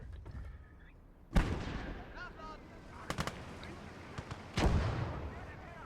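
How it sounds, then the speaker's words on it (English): Mortars and guns fire in a video game battle with armor nearby, a loud booming blast followed by sharp cracks and another heavy explosion over continuous rumbling battlefield noise. "Mortars firing off."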